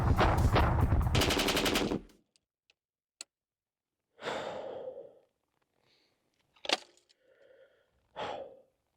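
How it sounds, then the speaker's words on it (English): A Gatling gun fires a loud, rapid, continuous rattling burst for about two seconds, then stops abruptly, in the Red Dead Redemption 2 video game. Scattered clicks, breathy sighs and gasps follow in the quieter stretch after it. "I need you to man that Gatling gun."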